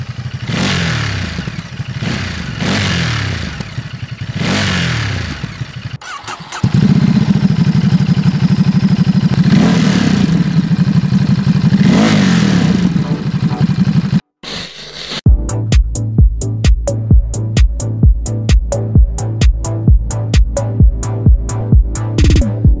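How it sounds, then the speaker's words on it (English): A Ducati Monster 937 motorcycle with an aftermarket exhaust revs and idles loudly up close, then settles into low-RPM running with a rapid string of regular exhaust pops and crackles. "Something that I was scared of losing with the stock exhaust is it pops on lower RPMs."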